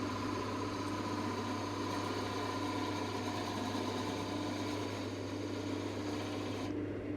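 Metal turns at high speed on a lathe-style machine while being cut down during work on an oil burner, giving a steady close hum and hiss that holds evenly throughout.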